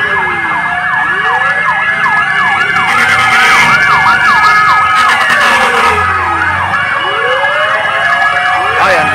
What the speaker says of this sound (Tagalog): Ayan, ayan, daming fire truck.